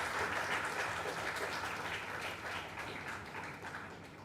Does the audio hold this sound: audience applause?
yes